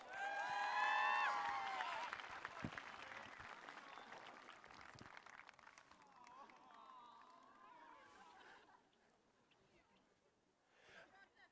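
Outdoor crowd applause and cheering at a high school graduation ceremony, loudest at the start and then thinning out, with chatter and a few whoops. It fades down toward the end, and crowd voices mix in throughout.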